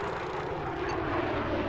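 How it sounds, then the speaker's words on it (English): Helicopter in the video game Battlefield 4: a steady, dense rotor and engine roar that fills the short stretch evenly and loudly, with no talk over it. "There's another helicopter here."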